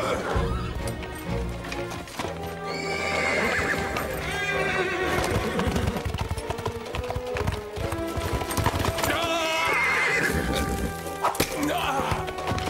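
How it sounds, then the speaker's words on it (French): Several horses neigh and whinny loudly amid rapid hoofbeats as they gallop off, with shouting voices and clatter mixed into the busy scene. "Mes chefs, nos chevaux se sont presque tous enfuis."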